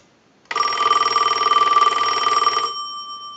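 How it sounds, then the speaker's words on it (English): A Western Electric 2565 multi-line telephone's electric bell rings loudly in one continuous rapid trill for about two seconds, then stops abruptly, leaving a faint tone. "I'll let it ring one more time"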